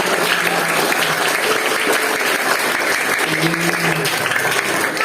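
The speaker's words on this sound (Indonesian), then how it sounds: "Tepuk tangan untuk kakak kita" Applause for sixth-grade students at a primary school Easter celebration, a steady dense clapping from a crowd of children filling the whole stretch, with a few voices faintly mixed in.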